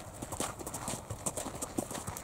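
A horse being led on a lead rope walks with steady clip-clopping hooves, quiet and fairly close, under a faint background hush.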